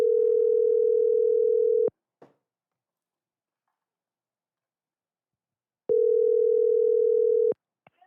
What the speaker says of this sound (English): So, Wade, answer your phone.